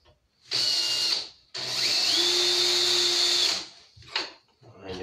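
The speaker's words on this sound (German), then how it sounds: "Einmal markieren und bohren." A power drill whirs in two bursts, a short one then a longer steady run, close and loud, with a brief clatter after.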